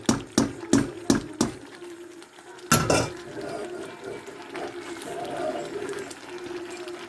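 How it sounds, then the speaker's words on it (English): Whole Nigerian brown beans are tipped into a cooking pot, giving a quick series of sharp knocks and rattles, then a heavier clatter. A low wet rustle of beans and liquid follows. "Tipping all the whole beans now."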